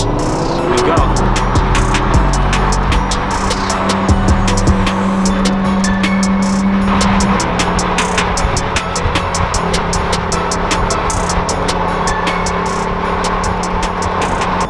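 A Lamborghini Huracan STO, McLaren 720S and BMW M5 roar steadily nearby, with rising and falling revs and sharp crackles as they drive past together.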